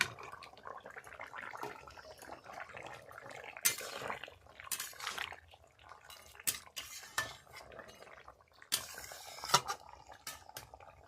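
Fried rohu fish pieces added to a simmering curry with yam and potato in a cooking pot, heard as clattering utensil scrapes, stirring knocks and soft liquid bubbling in irregular bursts.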